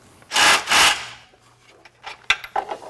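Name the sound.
loosening the top bolt of a Jeep bumper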